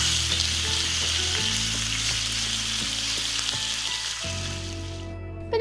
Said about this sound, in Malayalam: ഇതിലേക്ക് നമ്മൾ നേരത്തെ മാരിനേറ്റ് ചെയ്ത് വെച്ചിട്ടുള്ള ആ ഒരു ചിക്കൻ ആഡ് ചെയ്യും. ഇനി നമുക്കൊന്ന് ഫ്രൈ ചെയ്തെടുക്കാം.